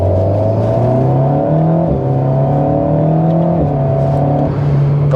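Alpine A110 S with a 292 hp engine and quick-shifting dual-clutch gearbox accelerating hard from inside the cabin, a loud droning intake note climbing in pitch with brief dips at each gear change.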